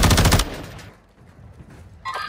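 Rapid burst of gunfire from a Tempus Razorback rifle in Warzone 2, a loud close volley of shots in the first half second, then quiet game ambience and a brief sharp sound at the end.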